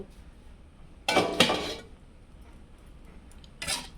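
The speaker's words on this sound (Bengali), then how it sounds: "অল্প আছে, কিছুক্ষণ ঢাকনা দিয়ে দিব" A pot lid set down over a pan of cooking semolina and egg mixture for a soya roll, giving a bright metallic clatter with a quick second clink, then a lighter rattle a couple of seconds later.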